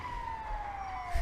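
An ambulance siren sounds as one sustained, slowly falling tone, heard over a low vehicle rumble in a brief, moderately faint snippet.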